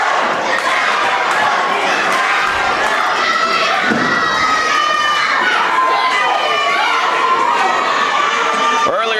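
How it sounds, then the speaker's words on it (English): A professional wrestling crowd cheers loudly and continuously in an arena, with shouts, whistles and high-pitched yells layered over a constant roar and occasional thuds from the ring. "Crowd now getting hugely behind the magnificent one, Malico."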